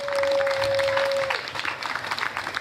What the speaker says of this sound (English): Won't you give him a nice round of applause, and her as well.